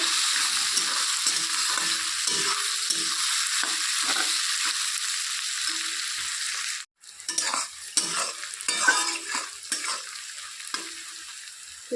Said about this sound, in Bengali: সামান্য পরিমাণে নুন দিয়ে দিচ্ছি পেঁয়াজটাকে লাল লাল করে ভেজে নেব